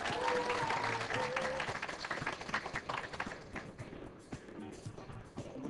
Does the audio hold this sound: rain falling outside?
no